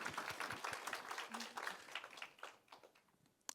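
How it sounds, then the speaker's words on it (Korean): Audience applause at a Korean film directors' awards ceremony, a dense patter of clapping that starts strong and thins out toward the end, with a sharp final clap, fairly quiet overall. "박수 감사합니다."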